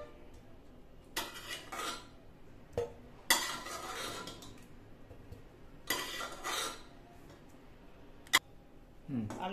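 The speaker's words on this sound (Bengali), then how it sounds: "সেদ্ধ আলুটা কুকার থেকে তুলে নেব।" Boiled potatoes lifted out of a pressure cooker with metal utensils, several sharp clinks and scrapes of metal against the pot in irregular bursts, close and clear in a quiet kitchen.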